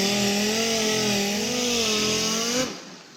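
Power sander working over the fenders of a Firebird car to strip heavy wax, a steady buzzing whine with slight pitch wobble that cuts off near the end, close and loud with no talk.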